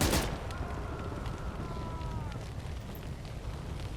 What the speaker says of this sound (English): And that grenade has been chucked.